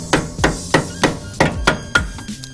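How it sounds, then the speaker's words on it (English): Hammer blows knocking the steering shaft off a Dodge Viper power steering rack in a garage: seven sharp, evenly spaced metallic taps, close and loud, with no talk. "just a few taps of the hammer here like so"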